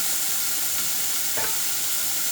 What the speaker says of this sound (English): Saute them in there.